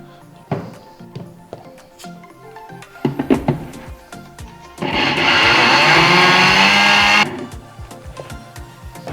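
A mixer blender grinds a crumbly masala mixture in one loud, whirring burst of about two and a half seconds, after several clunks and knocks from the jar and lid.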